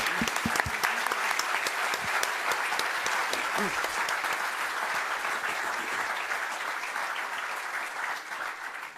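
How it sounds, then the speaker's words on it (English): Audience applause for three panelists at a California Public Utilities Commission conference in 2014: a steady, full clapping wash lasting about nine seconds, with a few sharper nearby claps early on, tapering slightly at the end. "let me invite the audience to join me in a round of applause for our 3 panelists"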